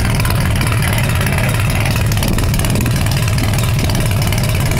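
A loud, heavy John Deere tractor engine idles steadily up close at an exhaust competition, a constant low rumble with a rapid chugging pulse and no pauses.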